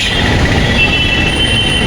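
A metro train passes close by, its loud, steady rumble joined by a sustained high-pitched wheel squeal, with no one talking.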